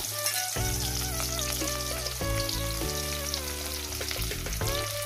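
Onions dropped into a hot wok of oil left from frying fish, sizzling and crackling steadily and close up, with no voices, while a background music track plays underneath.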